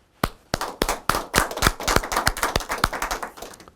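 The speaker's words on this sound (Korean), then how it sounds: "우리 모두 참 어머님께 감사의 박수를" An audience at a Korean church worship service applauds together, a burst of loud, irregular clapping that starts abruptly and continues steadily, close and clear.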